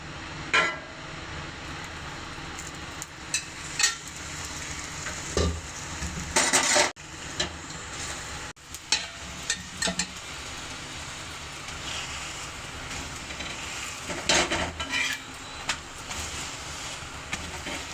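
Lauki (bottle gourd) paratha frying in ghee on a pan, a steady close sizzle throughout, punctuated by scraping and tapping bursts as it is turned and pressed.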